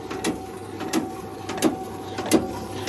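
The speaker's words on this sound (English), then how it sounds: "if I get round here, I'll just turn the machine on" A Morgana FRN5 perforating machine runs with a steady mechanical hum, punctuated by four evenly spaced clunks roughly every 0.7 seconds, close and moderately loud with no talk.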